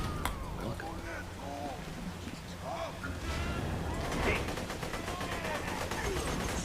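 A turret fires in the Borderlands video game, rapid automatic bursts mixed into a dense background of game effects and voices, with a steadier stream of shots in the second half.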